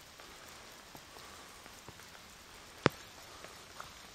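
Light rain falls on an empty parking lot by a lakeside trail, a soft steady patter with scattered drips and one sharp close tap.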